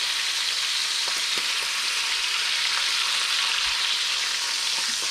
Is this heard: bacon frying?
yes